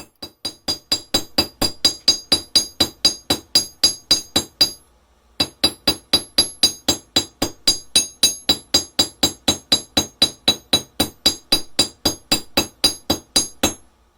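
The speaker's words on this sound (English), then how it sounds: "With a cross peen end, we're striking the metal on the curve" Cross peen end of a chasing hammer striking the curve of a metal fish hook key chain, a fast steady run of bright metallic clinks with a brief pause midway, close and loud with no talking.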